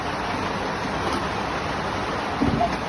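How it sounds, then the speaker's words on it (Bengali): Rain falling steadily outdoors near a kitchen where biryani is being cooked, a continuous broadband hiss with no breaks, growing slightly louder near the end. "এখন এদিকে বৃষ্টি পড়তেছে দেখতেছেন"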